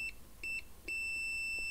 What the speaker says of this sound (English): We hear a beep, obviously, if there is continuity from this.